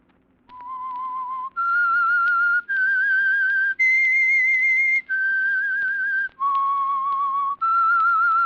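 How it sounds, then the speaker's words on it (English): The whistled signature tune of The Whistler radio drama: several sustained notes stepping up and down, clear and close with a faint low hum beneath. "That whistle is your signal for the Signal Oil Program"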